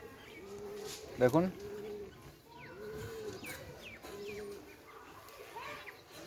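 A pair of Pakistani Golden pigeon chicks gives soft, close cooing calls while someone talks over them.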